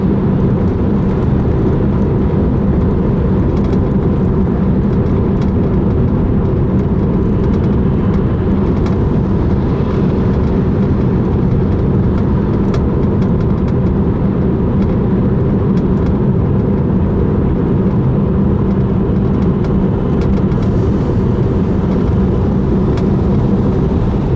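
A Tesla Model 3 cruises on the highway under Navigate on Autopilot, held to 80 kilometres an hour as other cars overtake. Steady loud tire and wind roar fills the cabin unbroken, with faint passing swells and no talk.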